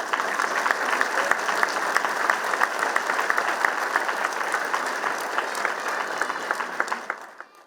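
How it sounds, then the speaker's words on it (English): Audience applause at a city's State of the City address, a steady, moderately distant wash of many hands clapping that holds evenly for several seconds and then fades out. "He'll probably enjoy this applause too when he comes back out too"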